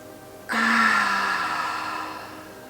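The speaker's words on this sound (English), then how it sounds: "we're going to breathe in for a count of 4" A single deep breath drawn in through the nose and mouth during a guided eyes-closed exercise, starting abruptly and sustaining as a long airy rush before tapering off, close and fairly loud with no talking.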